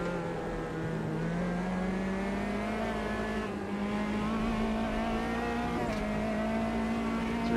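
Race car engine holding a steady high drone with rising pitch as it accelerates, tires faintly squealing, loud and continuous in Automobilista 2 at Virginia International Raceway.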